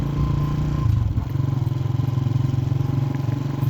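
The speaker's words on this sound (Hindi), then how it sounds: "अभी जी मोटरसाइकिल पे हूँ मैं और जा रहा हूँ जी फातिमा को लंच देने के लिए" Motorcycle engine chugging at riding speed, loud and close with a rhythmic pulsing throb and some rattling clatter, steady throughout with no talk.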